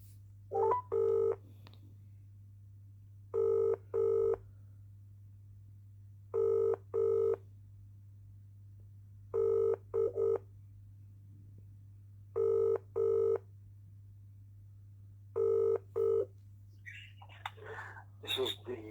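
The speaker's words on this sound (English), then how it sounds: "I'm now ringing up Mr. Graeme Kenna, Bradford Council City Solicitor." Outgoing phone call to a Bradford Council solicitor: a few quick keypad tones, then a repeating two-burst ring tone sounding six times at steady intervals over a constant low hum, with faint rustling near the end.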